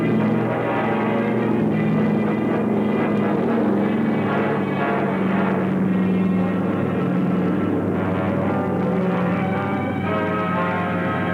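A steady, loud drone of several WW2 B-17 bomber piston engines in archive footage, a continuous throbbing roar with no break or pause.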